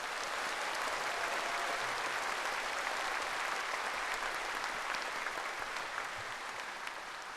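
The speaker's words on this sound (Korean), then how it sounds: "큰 박수를 부탁드리겠습니다." Audience clapping at the 80th Liberation Day national ceremony in Korea, a dense, steady sustained applause from a large crowd that fades slightly at the end, heard at a distance with no talking.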